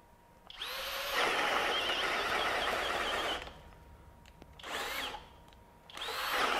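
A FLEX FXM202 24V hammer drill driver in turbo mode bores into wood, a loud whining run of about three seconds followed by two shorter bursts, close up with no talk.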